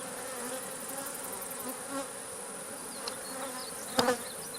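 Honey bees hum around an open beehive in a soft, continuous drone, with a faint brief knock near the end.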